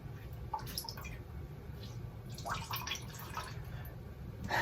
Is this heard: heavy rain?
no